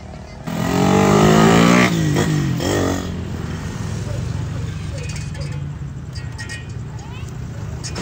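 A Suzuki Raider 150 motorcycle engine revs hard nearby, a loud rising burst of roughly two seconds that cuts off, then settles into a steadier lower engine drone with street noise for the rest.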